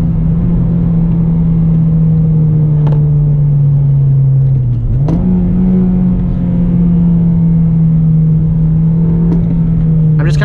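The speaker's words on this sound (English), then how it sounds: "you wanna blip the throttle when your clutch is in, and you want to have the throttle off whenever you're letting the clutch out" Car engine held at a steady drone under talk, dipping and then blipped sharply upward around the middle as the throttle is tapped during a heel-toe downshift, with a few brief clicks from the pedals or gear lever.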